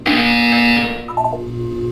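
Buzzer in the video game Portal 2, a loud harsh sustained electronic buzz lasting about a second, then a short lower tone.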